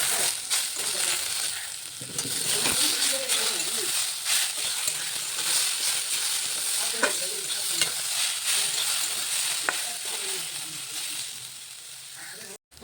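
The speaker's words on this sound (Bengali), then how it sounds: "আলুটা ভেজে নিব।" Potatoes fry in a pan with a dense, continuous sizzle while being stirred, close up and steady, with occasional scraping and a voice now and then.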